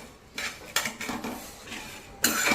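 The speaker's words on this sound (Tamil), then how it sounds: "இதை அப்படியே லைட்டாக சிம்மில் வச்சு வறுக்கணுங்க." Onion, ginger, garlic, dried chillies and spices dry-roasting without oil in a pan over low heat. A utensil scrapes and stirs them in a steady run of rough, close scuffs, with a louder burst of scraping at the end.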